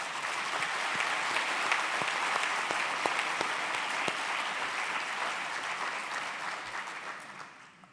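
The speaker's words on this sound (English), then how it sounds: "Let's give him a round of applause." An audience at a Singapore policy conference claps in a sustained round of applause, broad and even with a few sharp individual claps, tapering off toward the end.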